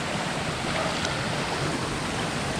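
A waterfall at Antonio's Nature Park in Doña Remedios Trinidad sends up a constant, even roar of rushing water, fairly faint and heard alone.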